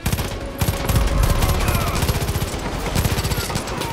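Rapid automatic gunfire from a heavy-recoil weapon in the Far Cry 5 video game, dense bursts of shots in quick succession throughout, loud and continuous with brief rhythmic pulses.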